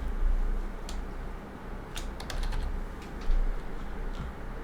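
Computer keyboard typing, a short scattered burst of light key clicks over a steady low hum, close and fairly quiet.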